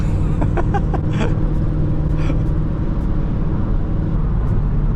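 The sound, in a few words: car engine and exhaust burbles in Sport Plus mode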